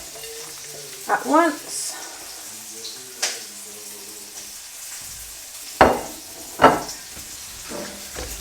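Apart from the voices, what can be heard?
vegetables sizzling and stirred in pan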